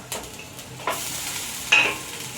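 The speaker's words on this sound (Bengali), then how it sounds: "দিয়ে ভালো করে একটু নেড়ে চেড়ে নেব একটু ভাজা ভাজা হয়ে গেলে পরে" Shredded coconut, slit green chillies and ginger sizzle steadily in a pan as a spatula scrapes through them in three distinct strokes, close and fairly loud, with no speech.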